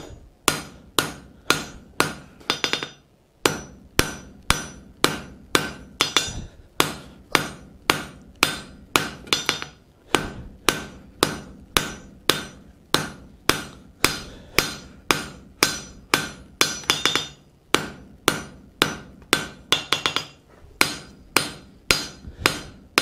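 A blacksmith strikes hot steel with a hammer on an anvil, drawing out a pine tree hook: a steady run of sharp, ringing blows close by, dozens of them in quick rhythm with only brief pauses.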